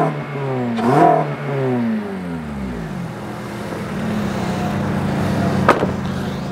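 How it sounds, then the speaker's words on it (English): A Honda Civic Type R FN2 with a Scorpion cat-back exhaust and no tuning revs twice near the start with rising and falling engine tones, then settles into a steady loud idle with a brief sharp blip near the end. "we've got a Scorpion cat-back exhaust system on there"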